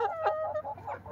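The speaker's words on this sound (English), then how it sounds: "Rooster." A 17-week-old rooster gives a few short, close clucks in quick succession, nasal and slightly throaty, with no other sounds around.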